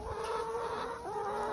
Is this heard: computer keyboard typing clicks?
no